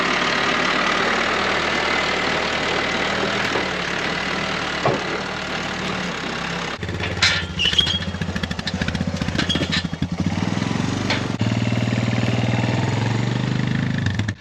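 A tractor engine runs steadily while working a field, a continuous loud rumbling drone that shifts in tone midway, with some rattling and knocking as it keeps moving.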